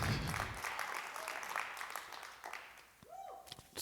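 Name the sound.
congregation clapping and shouting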